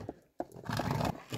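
A horse at a door gives a brief, faint whinny in a short burst of breathy, rising calls, fairly close and quiet.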